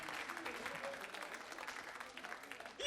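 Church congregation applauding and cheering in praise, a dense, steady wash of clapping from many hands filling the room, with voices mixed in and a slight swell at the very end.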